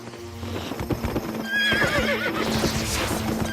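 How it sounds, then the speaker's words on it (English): A horse whinnies loudly, its neigh rising and wavering, while hooves clop steadily on the ground nearby throughout; recorded for a video game's sound effects. "what you're hearing are real horse sounds"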